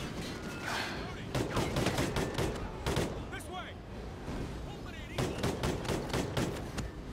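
Dense gunfire in the Call of Duty Ghosts campaign on Wii U crackles in rapid overlapping bursts and volleys, loud and continuous throughout, with a voice speaking over the shooting.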